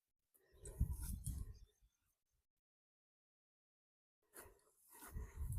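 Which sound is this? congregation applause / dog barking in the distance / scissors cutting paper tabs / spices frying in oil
dog barking in the distance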